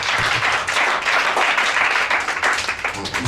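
An audience applauds at a French-language Bible quiz event: steady, dense clapping from many hands, fairly loud and close, lasting the full few seconds.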